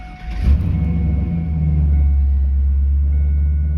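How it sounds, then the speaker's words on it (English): A car engine cranks and catches, then settles into a steady, loud low idle rumble with exhaust tone, close by inside the vehicle, during an air-conditioning service. "we want to go ahead and start the vehicle"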